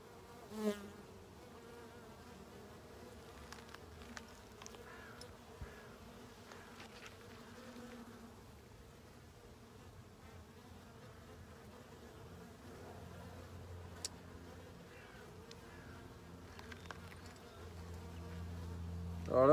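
Bees, leaning toward the dark black honeybee type, buzz around an opened Dadant hive frame holding brood, pollen and honey, a close, sustained drone with occasional louder passes near the microphone.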